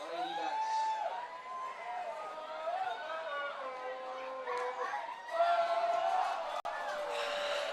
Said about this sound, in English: Crowd is animated. The student body portion with their chants.